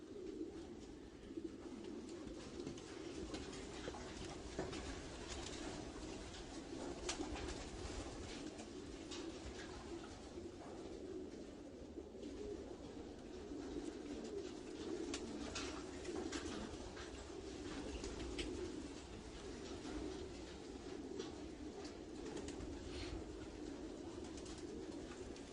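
Racing pigeons coo continuously inside a loft, a soft, steady chorus of many birds with low murmuring calls and faint rustling, no voices.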